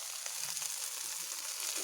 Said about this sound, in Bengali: এবার আমি যে ভেজে রাখা গোবিন্দভোগ চাল ছিল সেগুলোকে দিয়ে নিচ্ছি।